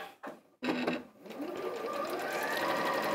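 A sewing machine running a long stitch along the edge of a fabric sewing machine cover, starting with a couple of short bursts then settling into a steady, close, continuous whirr.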